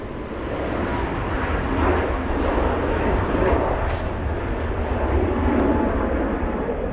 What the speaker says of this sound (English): There goes American Airlines to Hawaii.